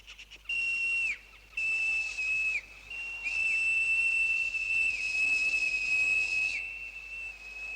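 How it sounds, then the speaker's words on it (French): A gnome whistles loudly and piercingly at one steady pitch in several long blasts separated by short gaps, close by and with no voices, in a cartoon. "Je vais siffler."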